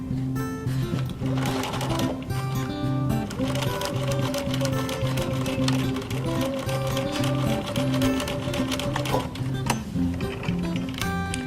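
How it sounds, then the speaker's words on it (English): A sewing machine stitching ribbon in place on fabric, a loud, close, rapid rhythmic mechanical whirring and clattering that runs steadily for about eleven seconds with a few brief pauses. "Use a pin to pin it in place. Now sew it in."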